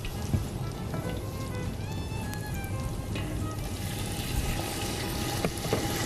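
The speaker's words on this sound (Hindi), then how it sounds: "अच्छा जी, मैं इसमें थोड़ा सा पानी डाल दूँगी।" Water poured into a hot cooking pan, where a semolina halwa is being made, sets off a steady, crackling sizzle that continues evenly throughout, with scattered sharp pops and no voices.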